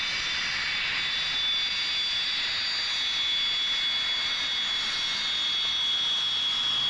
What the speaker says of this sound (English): Love to hear the sound of the Warbirds.